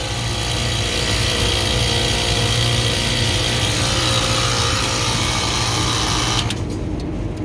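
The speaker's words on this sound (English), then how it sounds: "Compressor itself sounds like dirt." Failing air conditioner compressor runs loudly and continuously with a rough, grinding mechanical drone, then cuts off abruptly near the end.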